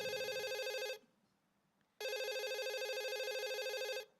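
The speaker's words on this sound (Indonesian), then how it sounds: "Sudah ada telepon yang masuk." An incoming call rings on a telephone during a live broadcast: two loud electronic ring bursts about a second apart, clean and close, with no talk.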